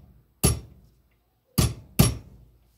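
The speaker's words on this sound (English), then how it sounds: "little ball peen hammer or small hammer, okay, and then you just want to tap out that pin gently" Three sharp metallic taps from a small ball peen hammer tapping out a pin on a reel, one alone and then a close pair, each ringing briefly before quiet.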